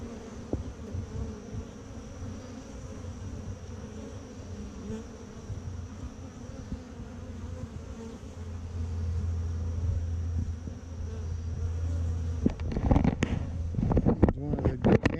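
Honeybees around a small hive during the introduction of a mated queen, making a steady close buzz throughout that grows fuller over time, with louder rustling and handling noise near the end.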